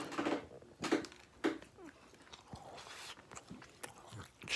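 Someone bites into a chewy Japanese-style mochi donut, maple or cookies and cream, at a restaurant, giving a few soft crunchy bites followed by close, quiet chewing, with no talk.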